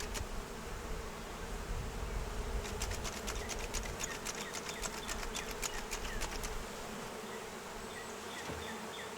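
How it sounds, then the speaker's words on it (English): Dense buzzing of many honeybees at an open hive close by, a steady insect hum with brief crackling handling noise in the middle. "A lot of new bees in there."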